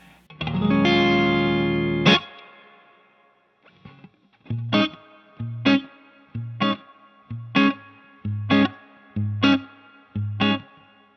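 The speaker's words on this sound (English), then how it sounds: "I'll turn the send level up so we'll get a longer reverb sound here" A Two Rock guitar amp with its spring reverb send turned high: a distorted held chord rings out, then eight rhythmic muted chord stabs each leave a long, washy spring-reverb tail, loud and close.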